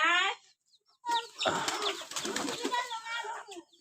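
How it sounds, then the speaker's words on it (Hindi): Pigeon arriving at a rooftop feeding spot where it is given rice, with short bird calls and a burst of wing flapping, fairly close, followed by a longer flurry of wingbeats and movement. "देखो कबूतर आ गया।"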